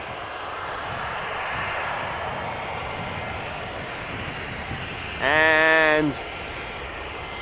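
Engines of a DHL Airbus A300 at Amsterdam Schiphol Airport produce a continuous broadband roar at moderate distance, briefly interrupted near the end by a short spoken word.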